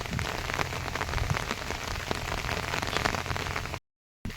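Steady rain falls on an open field where goats graze, a dense even patter close by with no voices, ending in a brief silent gap.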